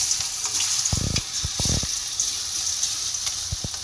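Soybean chunks frying in hot oil, a constant hissing sizzle with a few short bubbling bursts and light knocks, heard close with no talking.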